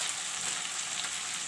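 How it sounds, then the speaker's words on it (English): Okra and potatoes with Kashmiri red chili powder fry in a pan as a soft, even sizzle, a brief continuous hiss heard up close without speech. "And I will mix it nicely."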